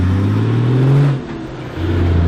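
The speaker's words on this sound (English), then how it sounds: "with my brother, which is the car that you just saw drive off" A car driving off, its engine holding a steady loud hum, briefly rising in pitch, then dipping as it pulls away before the drone returns, close by with no talking.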